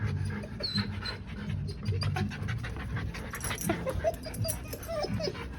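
A puppy pants close by during a late-night stroll, quick rhythmic breaths with faint whimpers and jingling tags or keys, while people speak softly nearby.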